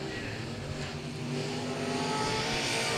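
Race cars circle South Texas Speedway in single file, a steady blended engine roar holding for the whole stretch with no break, rising slightly toward the end as the field passes.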